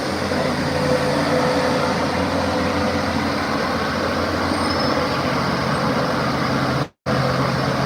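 Road traffic passes in a loud, continuous rumble and hiss, briefly cut out near the end before resuming, with no talking.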